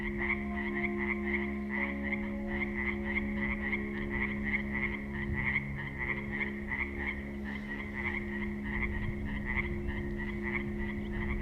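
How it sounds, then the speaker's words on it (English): Frogs croak near a lake among basalt towers, a dense chorus of rhythmic, repeating calls pulsing steadily and close, with a constant low drone underneath and no voices. "the chirping birds that could be heard all day get drowned out by frogs"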